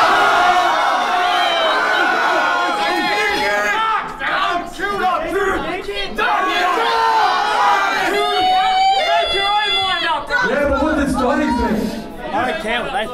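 A battle rap crowd roars with dense, continuous cheering and shouting, many voices overlapping loudly and close throughout, with brief dips in the din.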